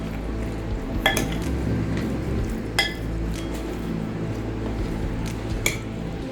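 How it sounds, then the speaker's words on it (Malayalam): Spicy garlic chicken is mixed with soy sauce in a bowl: a wet, squishy churning with a few sharp clinks of a utensil against the bowl. "ഇനി സോയാ സോസ് ചേർത്തിട്ട് ഒന്ന് മിക്സ് ചെയ്ത് വയ്ക്കാം."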